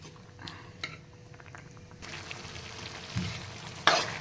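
Potato and pea masala bubbling in a pan, a soft steady sizzle and simmer with occasional small pops and stirring clinks, growing louder toward the end.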